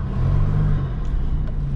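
A car that has just had exhaust work, with a hole cut in the exhaust, pulls away with a steady, close engine rumble and no talking.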